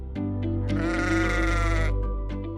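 A sheep raised for meat lets out a long, loud, wavering bleat close by, framed by a few shorter calls and soft rustling before and after.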